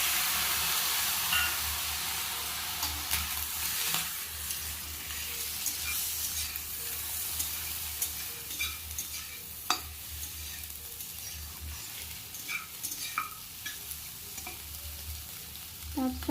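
Chopped tomatoes and fried eggs sizzle in a pan, a steady frying hiss with scattered crackles and pops close by, and stirring clatters now and then.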